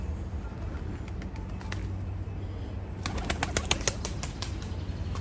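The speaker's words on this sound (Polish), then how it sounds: "Byłem właśnie świadkiem kopulacji gołębi." Pigeons mating in the Estufa Fria greenhouse in Lisbon, with a steady low murmur of cooing under background hum, then a burst of quick wing flaps and clattering in the final seconds, close by.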